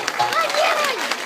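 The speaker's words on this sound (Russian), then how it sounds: "Аплодисменты, взрослые, поаплодируйте" Audience applause at an outdoor children's event celebrating Chukovsky, with adults clapping together. Speech-like tones and a voice cut through the clapping.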